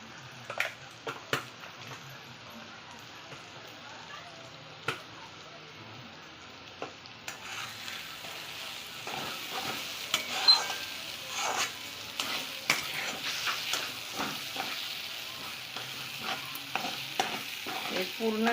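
Spiced gram flour paste with a pinch of turmeric fries in oil while being stirred, quiet scraping at first, then a livelier sizzle with repeated stirring clacks, close by, no talking.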